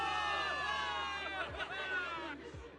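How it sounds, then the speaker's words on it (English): A crowd of soldiers cheers for victory in the Zenless Zone Zero video game, a sustained, loud mass of voices and shouts that swells and dips, with a few thumps underneath. "Give it up for yourselves, soldiers. Cheer for victory."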